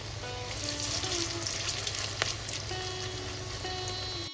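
Oil sizzles and crackles steadily as prawn-head fritters fry over a gas flame, a constant hiss with faint tonal sounds in the background.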